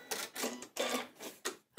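A Janome Atelier 9 sewing machine works its automatic thread cutter, making a short series of mechanical clicks and whirring bursts in close succession, with no talk.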